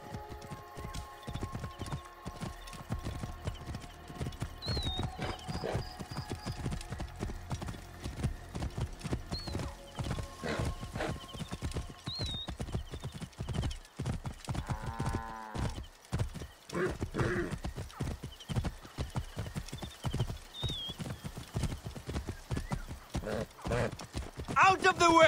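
Horse hooves clip-clop steadily through a race in Assassin's Creed Origins, with neighs and whinnies rising over the galloping, and voices talking and shouting throughout.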